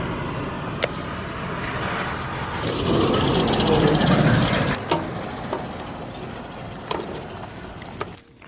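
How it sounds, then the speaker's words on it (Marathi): Metallic clicks and ratchet-like clanks come from the battery being removed from a Deluxe motorbike at night near a river, with a louder, busier stretch midway and faint background voices. "ही रोहितची गाडी आहे डिलक्स त्या गाडीचा आम्ही बॅटरी काढणार आहे"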